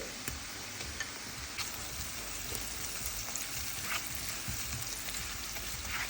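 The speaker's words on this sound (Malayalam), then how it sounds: "ഞാനിപ്പോൾ എടുത്തിരിക്കുന്നത് ഒരു ഒന്നര സവോളയാണ് ഇഞ്ചി വെളുത്തുള്ളി പേസ്റ്റാണ് ഞാൻ ആഡ് ചെയ്യുന്നത്" Onion with ginger-garlic paste frying in a pan, a dense, even hiss of sizzling oil with faint ticking pops throughout, close and steady, no voices.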